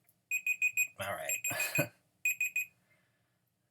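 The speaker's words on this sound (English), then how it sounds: "Timer went off." A beeping timer alarm sounds in quick four-beep bursts, fairly close, pausing while someone speaks briefly over it before the beeping resumes.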